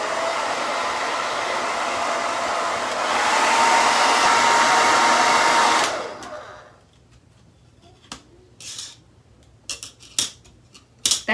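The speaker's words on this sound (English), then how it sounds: "So let's get out our hairdryer and make sure." A hair dryer blows with a loud, steady whoosh that rises in strength, then cuts off, leaving a few sharp snipping clicks in quiet.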